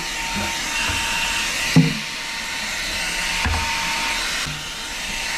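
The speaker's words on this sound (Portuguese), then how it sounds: "Isso aqui é um aspirador portátil." A small handheld portable vacuum cleaner runs steadily and close by, a continuous whirring drone with a few brief knocks and bumps as it is moved over small items while cleaning a cupboard.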